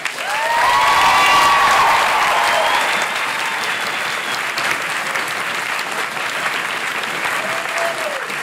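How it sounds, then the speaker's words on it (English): Audience applause greets new soldiers at an Army family day at Fort Jackson, a loud sustained clapping crowd swelling early and then holding steady, with faint voices calling out over it. "Give them a round of applause."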